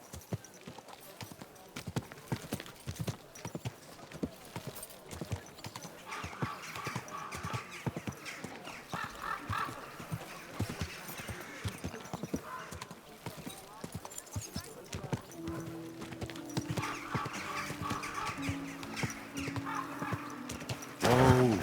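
Horse hooves clip-clop steadily at a walking pace in Kingdom Come: Deliverance II, with an occasional whinny, while people talk over the sound.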